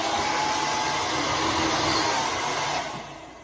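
A hair dryer blasts hair dry at close range, a loud, steady, breathy whoosh that holds for several seconds and then drops slightly in level near the end, with no voices.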